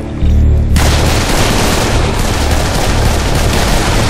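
Sustained rapid gunfire from the video game Serious Sam 3: BFE, loud and continuous with dense overlapping shots, kicking in after a brief quieter start.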